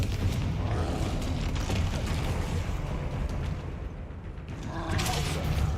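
A Confringo blasting spell goes off in Hogwarts Legacy, a loud, rumbling explosion with a deep boom and crackling debris that fades briefly, then swells again amid game sound.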